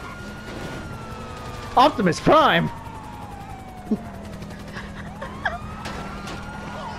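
A police car siren in Grand Theft Auto 5 gives a brief, loud warbling burst over busy game noise and traffic, with someone shouting over it.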